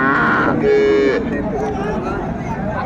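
Sahiwal cows and calves lowing at the busy Raniganj livestock market, a long moo rising over steady crowd chatter and background voices.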